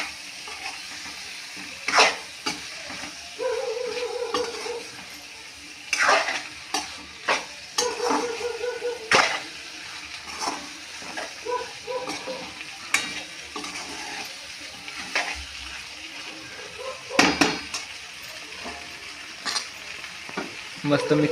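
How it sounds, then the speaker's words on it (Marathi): Prawns and fish coated in masala are stirred and fried in a pan, giving a steady sizzle broken by repeated scraping and clattering strokes of the spoon, with no talk. "झिंग्या आणि बारखांले मासे ते पण टाकून घेणार आहे आणि मस्त मिक्स करून घ्यायचं आपल्याला"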